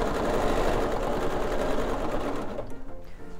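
Sewing machine stitching dense quilting lines on a collage quilt, a loud steady close-up whir with fast needle rhythm that slows and stops near the end.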